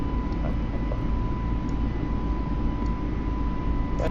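An airliner in a flight simulator game rolls for takeoff, a steady loud engine roar with a constant drone and faint clicks, heard alone without talking.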